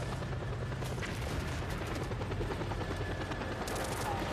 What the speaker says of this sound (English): Helicopter gets away.